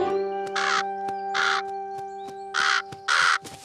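Cartoon crows caw in bright bursts over a steady tonal background, four loud calls separated by pauses, with a rhythmic tick running underneath.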